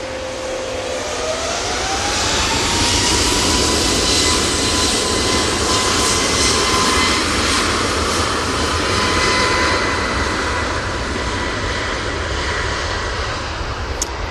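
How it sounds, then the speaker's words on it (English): An EasyJet Airbus A321neo jet takes off from Manchester Airport, its engines roaring loud and sustained with a rising whine as the sound builds and then slowly thins. "that A321neo for EasyJet is off to Dalaman"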